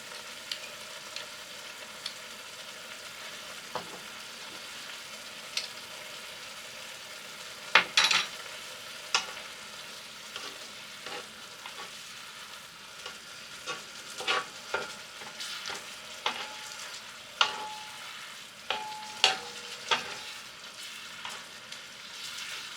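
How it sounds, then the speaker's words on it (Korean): Chili powder and gochujang stir-fry over medium heat with soy sauce for spicy squid, a low steady sizzle punctuated by repeated sharp spatula scrapes and taps against the pan, no voices. "고춧가루 2큰술, 고추장 1큰술을 넣고 타지 않게 중불에서 볶아주세요"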